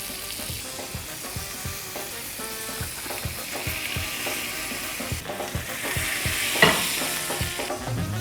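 A leftover gammon Reuben sandwich toasts in a pan, giving a steady close sizzle and crackle throughout, with occasional soft scrapes and taps of a utensil against the pan.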